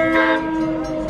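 A train blasts its horn at a railway crossing, a loud, sustained multi-tone chord heard up close with a steady rumble of rail noise beneath and no talking.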